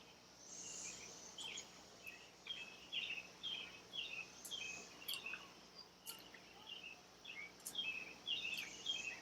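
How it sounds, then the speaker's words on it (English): Cicadas buzz faintly in a backyard, their thin, high pulsing drones rising and falling in repeated bursts over an otherwise quiet background. "there's cicadas"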